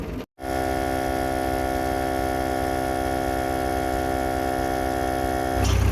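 An air compressor runs to inflate a flat tire, giving a loud, steady droning motor hum with a constant tone. The hum cuts out for a moment near the start, then carries on unbroken with no talking.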